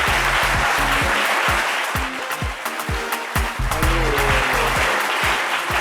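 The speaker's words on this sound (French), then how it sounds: "Merci de l'applaudir très fort." A television studio audience claps loudly and continuously, with rhythmic music beats underneath as a guest arrives on set.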